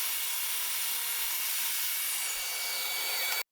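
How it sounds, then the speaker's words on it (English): A power saw rips a wooden board to a two-inch width, a steady loud whining cut lasting about three seconds before stopping abruptly. "I set my fence to 2 inches, then cut the board to width."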